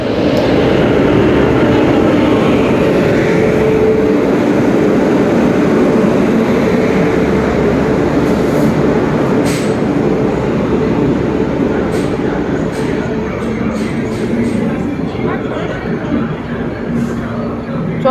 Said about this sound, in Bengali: চলো, আমাদের ট্রেন এখন ঢুকছে ডিব্রুগড় রাজধানী এক্সপ্রেস